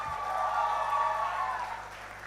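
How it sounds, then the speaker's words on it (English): Applause for parents at a medical college graduates' reception comes as a soft, distant wash of clapping from the audience, swelling briefly and then fading over a couple of seconds. "I request everyone to give a big round of applause to all parents"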